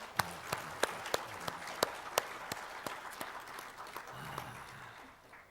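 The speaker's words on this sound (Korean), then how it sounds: "다시 한번 박수로" Applause from a crowd at a church Christmas service, a steady wash of many hands clapping with a few sharper claps standing out, moderately loud, tapering slightly toward the end.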